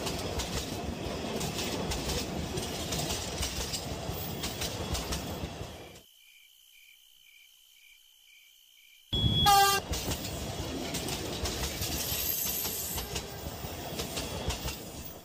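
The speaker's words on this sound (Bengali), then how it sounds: "ট্রেন আজাদপুর স্টেশনে এসে থামে" A train pulls into Azadpur station with continuous rumbling, rattling wagons, and a loud horn burst near the end, after a stretch of near silence broken by a series of short beeps.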